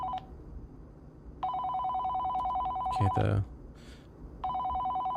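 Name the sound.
telephone ringing in a scary itch.io video game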